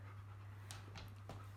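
A freshly bathed dog pants quietly in quick, even breaths, close but faint against a low steady hum, with a few sharper exhalations and no voices.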